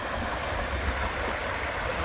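Creek water rushes steadily over deep, swimmable pools on BLM land, a continuous broadband wash of flowing water with no talk.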